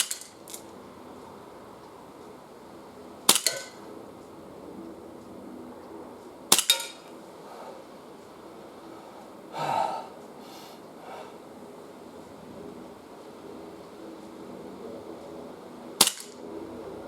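A Remington fires at cans 12.5 metres away, four sharp, loud, isolated cracks spaced several seconds apart, with a soft rustle between shots against a quiet background.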